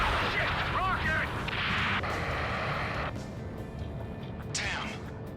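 Rocket explosions in the combat flight game Ace Combat 7: Skies Unknown, during a rescue mission, make booming blasts and rushing, whooshing roars over a dense wash of battle noise, with voices breaking in around them.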